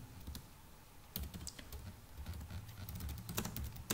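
Steady, close computer keyboard typing while code for a recursion program is entered: quick irregular clicks in short bursts with brief pauses, no voice.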